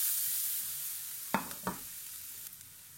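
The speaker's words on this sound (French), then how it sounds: "j'ai mon beurre qui chante. Allez, je mets tout de suite mon échalote. Voilà, et je fais revenir." Shallots dropped into hot sizzling butter in a frying pan for warm Breton oysters: a bright hiss that fades, then two quick clattering scrapes as they are stirred, close by with no speech.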